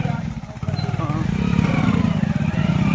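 A motorcycle engine idles and rumbles steadily close by, a low throbbing drone that rises slightly, with a voice talking over it.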